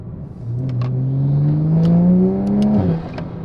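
A Toyota Supra's B58 straight-six engine revs up in a rising, smooth climb for a couple of seconds, then drops off sharply, loud and close with no talking.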